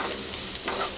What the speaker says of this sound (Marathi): आता मंद आचेवर आपण चांगलं हे परतून घेऊया मसाला सगळा